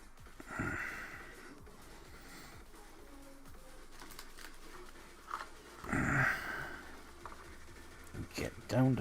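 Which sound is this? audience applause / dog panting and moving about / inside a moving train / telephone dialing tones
dog panting and moving about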